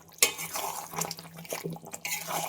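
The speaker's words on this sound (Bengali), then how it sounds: "আমি জল দিয়ে দেব।" Water is poured into a pan of chicken and soybean curry, splashing and sizzling close by in short irregular bursts.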